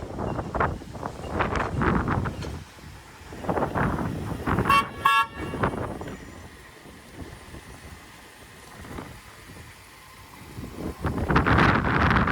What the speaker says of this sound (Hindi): जैन जब ड्राइव टेस्ट करके आएगा तो जैन ने हॉर्न देना है